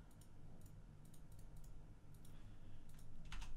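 A computer mouse clicks while compositing in Nuke software: faint, close, dry clicks come in small scattered bursts over a low, steady room hum, with no talking.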